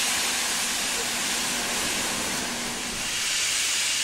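Steam hisses steadily and loudly from a class 65 tank steam locomotive built between 1954 and 1957, a close, continuous broad rushing sound with a faint low hum beneath it.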